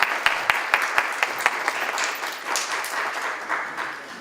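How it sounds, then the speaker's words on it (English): An audience at a campaign event for a Chicago 4th Ward alderwoman candidate claps, starting with a few distinct sharp claps and swelling into steady, moderately loud applause. "you should give yourselves a round of applause for being here"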